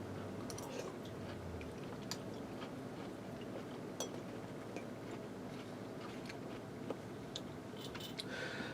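Someone chews Cajun-seasoned vegetables close up, with soft wet mastication and small clicks over a faint steady background hiss, no talking.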